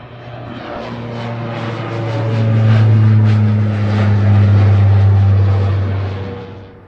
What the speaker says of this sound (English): Distracted by the plane.